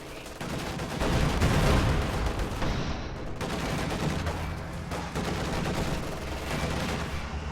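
Gunfire crackles through a video game tank battle, with dense bursts of shots and booming blasts rolling continuously at a loud, steady level, with no talk.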